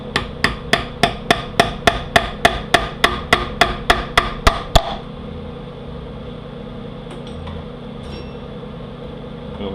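A hammer strikes a punch to drive a cup plug during a 42RLE transmission rebuild, giving about eighteen sharp metallic taps in a quick even rhythm, then stopping to a quiet shop hum.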